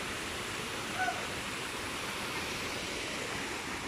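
A small waterfall at Lambingan Falls gives a steady, even rush of falling water, constant and moderately distant, with no break throughout.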